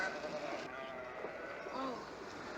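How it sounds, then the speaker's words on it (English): Sheep bleat near a railroad boxcar where they are being loaded, several calls rising over a low background rumble and some faint voices. "Oh, what, all those sheep? Those are mine."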